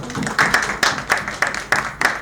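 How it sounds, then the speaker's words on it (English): Brief, sparse clapping from a small audience after a talk on good governance in Africa, about seven distinct, fairly regular claps close by. "A round of applause."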